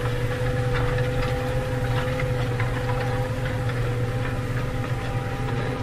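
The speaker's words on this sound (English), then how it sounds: "Tractor's just about to start spinning its way through here." A tractor engine drones steadily in a wet field during ploughing, with a constant low hum and faint rhythmic ticking and no voices over it.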